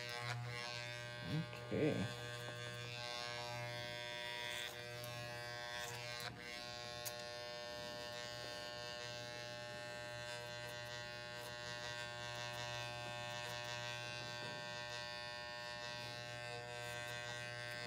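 An electric hair clipper buzzes steadily and softly throughout a haircut, a constant hum with a few small bumps, and a voice briefly speaks once early on.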